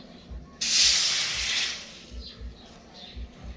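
Thick coconut cream poured into a hot pan for a shrimp green curry gives a sudden loud hiss and sizzle that lasts about a second, then settles into a softer simmering fizz with faint low thumps.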